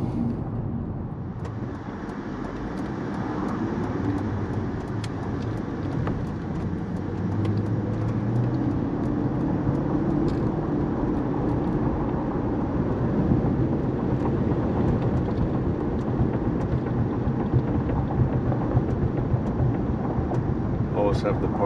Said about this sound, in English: we drive on this concrete road and it sounds terrible.